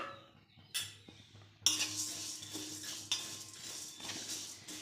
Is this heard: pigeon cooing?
no